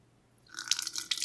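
Dark red hibiscus tea, brewed from dried hibiscus flowers for blueberry mead, poured off after straining, a soft liquid splash and trickle that starts about halfway through and runs close and fairly quiet.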